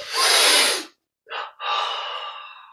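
A deep breath drawn in during a guided yoga breathing exercise, a long airy inhale followed by a short pause, then a brief sniff and another extended breath, close and alone.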